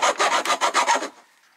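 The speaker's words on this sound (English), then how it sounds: "We're gonna clean that edge up with a file." A metal file rasps back and forth along a freshly broken edge while building deck post lighting, about seven loud, even strokes in a steady rhythm, then quiet, with no talking.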